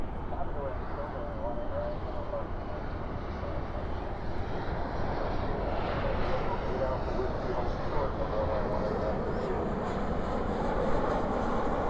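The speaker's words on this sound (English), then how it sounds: "Spoilers up, reversers out on that 737." Boeing 737 landing at night at Dallas Fort Worth Airport with spoilers up and thrust reversers deployed, a sustained, loud, rumbling jet roar that swells slightly through the middle, with a voice talking over it.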